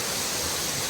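Steady, close rushing of a stream on state game lands, a dense broadband wash of flowing water that holds constant for the whole second with no voices or other sounds over it.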